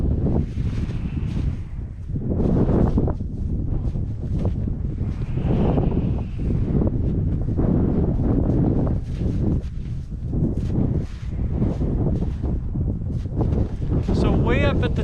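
Strong wind blows while a power kite is flown, buffeting the microphone in loud, gusting rushes that swell and fade, with a person talking over it.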